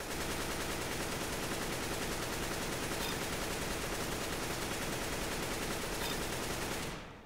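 Sustained full-magazine rifle spray in CS GO, a dense, unbroken stream of loud gunshots for about seven seconds before cutting off abruptly, with no voice over it.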